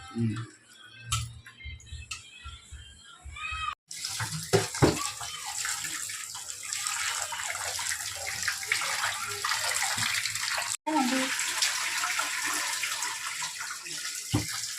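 Chicken is washed under running tap water for a gongura curry: close splashing and gushing into a basin, with a quieter start of handling and drips before the steady flow takes over, briefly cut, then resuming.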